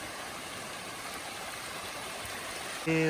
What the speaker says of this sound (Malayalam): ഇതാ ഇങ്ങനെ വെള്ളം ഒഴുകി വരുന്നുണ്ട് നടക്കുന്ന വഴിയെ